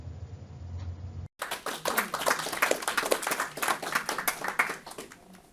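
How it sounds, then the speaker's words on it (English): A small audience at a conference on peat depth knowledge claps in a dense, sustained patter after a brief hush, moderately loud and with no talking over it. "We shall record that applause and play it back to Richard later today"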